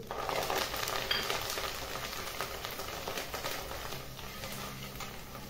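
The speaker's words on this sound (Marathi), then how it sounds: "तर तेल तापलेलं आहे, ह्याच्यामध्ये आपण आधी 1 वाटी कोथिंबीर," Fresh coriander frying in hot oil in a home kitchen, a dense continuous sizzle with crackling and spattering, steady and close throughout, with no talk.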